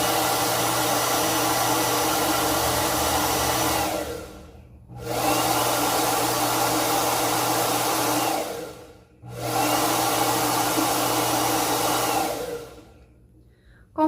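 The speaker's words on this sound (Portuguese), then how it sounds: "a gente inseriu o secador de cabelo" Hair dryer blowing air into a tube, a steady loud whoosh that cuts out twice for a moment before resuming.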